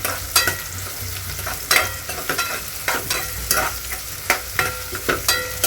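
Onions frying in a pan: a steady close sizzle punctuated by repeated sharp scrapes and taps of a spatula stirring every second or so, with no talking.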